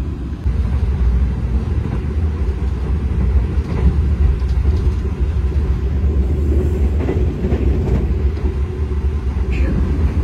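The Gumarang passenger train, hauled by a red locomotive, rumbles steadily along the rails between Jakarta and Surabaya, a loud continuous low roar with faint rhythmic clacking and rattling throughout.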